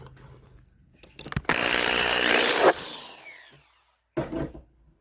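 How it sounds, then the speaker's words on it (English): A power drill bites into metal on a 220-volt AC outlet in one sustained, loud burst that spins down, followed after a quiet gap by a short second whir. "First we'll drill the metal."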